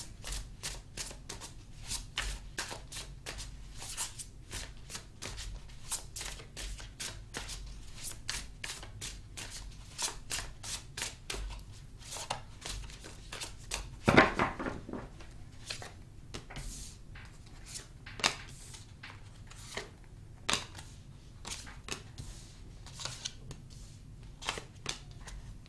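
A deck of tarot cards is shuffled steadily for over twenty seconds, a continuous close riffle of rapid papery flicks with one louder burst midway and no talking.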